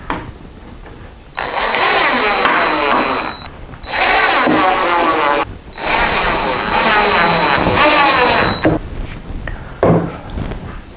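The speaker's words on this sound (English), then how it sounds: "I can just start screwing this down to the plywood." A power drill whirs in three long bursts with short pauses between, driving screws into plywood, loud and close, followed by a few brief clicks.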